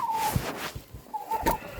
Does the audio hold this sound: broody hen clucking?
yes